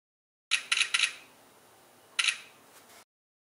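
OPPO F9 Pro phone camera shutter clicks close up and fairly faint: a quick burst of three clicks, a pause, then one more click.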